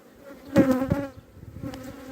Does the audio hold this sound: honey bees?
yes